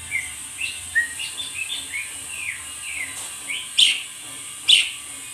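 A Javan pied starling (jalak suren) gives a string of short chirps and whistled calls, two louder sharp notes near the end, close by with no talk over it.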